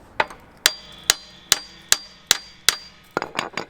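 Hammer blows on a failed Range Rover Evoque suspension part, about eight sharp metallic strikes at a steady rhythm with ringing decay, close and loud, ending in a quicker cluster of lighter taps.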